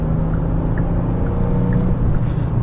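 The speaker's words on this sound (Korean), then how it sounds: "특히 이제 배기 쪽도 그렇고 엔진의 회전 질감은 상당히 기분이 좋습니다." A 2021 Genesis G80 3.5 turbo AWD accelerating hard, its engine and exhaust giving a steady, muted low rumble heard from inside the car without talk.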